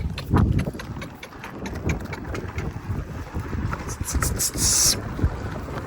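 A mare moving in the smooth revaal gait, her hooves tapping out a quick, even clip-clop close by, with wind buffeting the microphone and a brief hiss of outdoor noise near the end.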